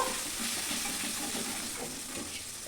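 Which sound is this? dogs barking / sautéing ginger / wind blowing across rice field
sautéing ginger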